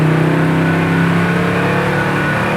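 The engine of a classic car drives along, loud and close from inside the car, holding a steady mid-pitched drone with a slight climb in revs and a low rumble underneath.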